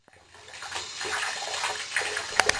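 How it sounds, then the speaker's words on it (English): Water gushing in and flooding a place, rising from silence into a steady rushing wash with splashes and bubbling sounds, plus a couple of sharp splatters near the end. "the whole place is flooding"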